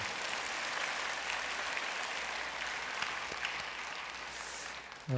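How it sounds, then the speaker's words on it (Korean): Church congregation applauding after a praise performance by worship team, choir, handbells, orchestra and percussion group; steady, dense clapping fills the room for about five seconds at moderate level. "우리 격려의 박수 부탁을 드리겠습니다"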